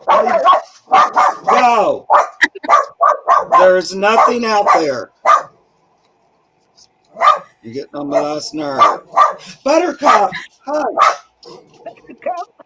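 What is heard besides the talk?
dog barking at a cat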